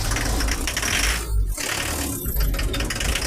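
Diesel engine running just after its injection pump was refitted, a loud, close mechanical clatter with a rapid ratcheting rattle and low rumble, steady apart from two brief dips in the noise, with no talking.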